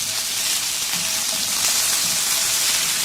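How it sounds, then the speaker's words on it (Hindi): Ginger and garlic paste sizzling as it cooks in a pan, a steady loud hiss and crackle that runs unbroken throughout, with no voices. "और इसके अंदर अदरक की पेस्ट, लहसुन की पेस्ट, इसको हम 1 मिनट कुक कर लेंगे।"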